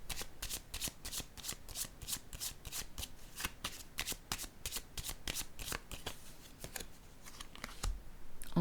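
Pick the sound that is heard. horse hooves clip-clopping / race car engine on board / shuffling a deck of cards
shuffling a deck of cards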